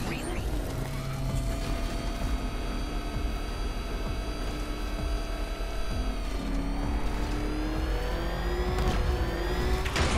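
Batmobile engine in Batman: Arkham Knight, a steady, loud mechanical whine and roar with rising tonal revs, continuous and close, while a voice talks over it.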